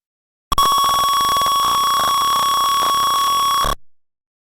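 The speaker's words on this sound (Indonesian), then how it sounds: "maka alarm tersebut akan berbunyi dan juga LED akan menyala" A fire alarm triggered by a temperature sensor sounds continuously for about three seconds, a loud, steady, high-pitched electronic buzzing tone that starts and cuts off abruptly.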